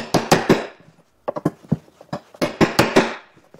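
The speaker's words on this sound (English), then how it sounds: "typically you only hammer a certain number of times" A hammer drives RS125 alligator lacing onto a belt with sharp, loud metallic blows. The strikes come close and crisp in two quick clusters separated by a short pause.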